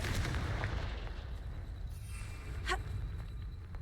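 A spell blast in Hogwarts Legacy booms out in a rumbling, artillery-like explosion over a steady low roar of game ambience, followed by a sharp crackling impact.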